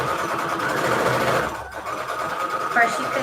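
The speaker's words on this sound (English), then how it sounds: "I, of course, like to use my sewing machine" A sewing machine running a straight stitch on scrap paper envelopes, a steady close mechanical whir with a brief dip midway.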